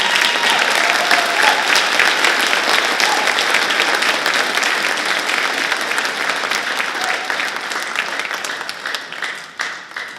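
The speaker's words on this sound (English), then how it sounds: "How about a round of applause for these students?" A band concert audience applauds student musicians with loud, sustained clapping that stays dense for about ten seconds before thinning slightly at the close.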